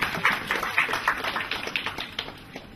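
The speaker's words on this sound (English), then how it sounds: "A round of applause, please." A small group at a networking gathering gives a short round of applause, the clapping fairly quiet and scattered before thinning out toward the end.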